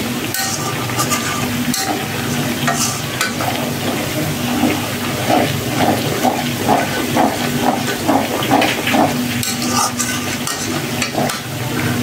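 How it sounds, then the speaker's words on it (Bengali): Onions browning in a pan of hot oil with two or three pieces of cinnamon stick, giving a steady, close sizzle and hiss with occasional stirring scrapes throughout. "পেঁয়াজটা একটু বাদামি কালার করে নিতেছি।"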